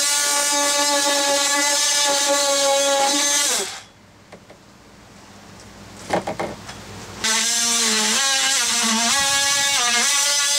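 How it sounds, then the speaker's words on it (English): An oscillating multi-tool buzzes loudly and steadily while cutting a fiberglass locker with a Nidacore core, stops for a few quiet seconds with faint handling knocks, then starts again at full pitch. "So now I'm finishing up with the oscillating tool where the circular blade couldn't get"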